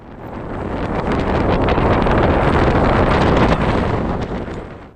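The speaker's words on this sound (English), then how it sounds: "It really was blowing a hoolie" Strong gale roaring across a mountain ultra race course, loud continuous buffeting rumble battering the microphone, swelling slightly in the middle and easing toward the end.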